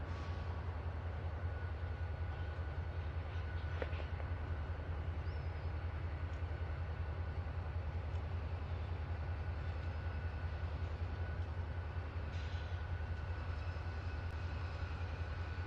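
A modern freight train rumbles past at a distance, a steady low drone with faint metallic squeals and clanks holding level throughout.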